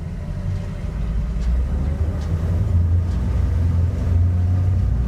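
Four 500R outboard engines on a Technohull Alpha 50 powerboat rumble steadily, deep and continuous at a close distance, with faint swells of power as the boat spins to port; no talking.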